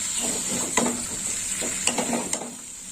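Fried potato, pointed gourd and pumpkin are stirred together in a sizzling pan, with a steady frying hiss broken by several sharp scrapes and clinks of the spoon against the metal.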